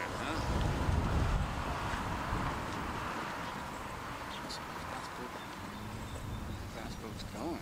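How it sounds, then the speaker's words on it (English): A fast boat's engine rumbles past off Nantucket amid gusty wind and water noise, loudest early and fading away, with voices faintly underneath. "Fast boat's going."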